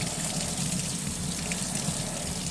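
Tap water gushes steadily over the lid of a 6-pound rock tumbler barrel being rinsed in a sink, a constant close rushing splash with no pauses.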